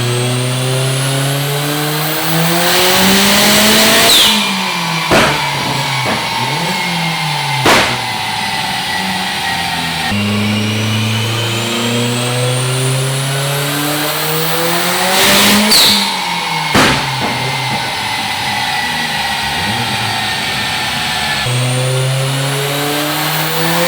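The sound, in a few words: car engine running on a dyno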